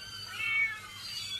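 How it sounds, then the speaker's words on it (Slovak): A crowd of cats meowing all at once, their overlapping high cries swelling and fading in a dense, continuous chorus close by, with no voices present. "Pozri, koľko mačiek."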